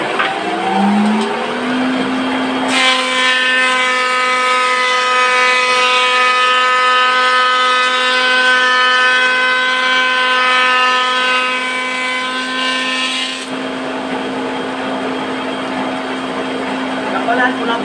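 A 3 HP motor on a homemade wooden thickness planer spins up with a rising whine, then holds a loud, steady, tonal drone for about ten seconds before cutting back to a lower running hum.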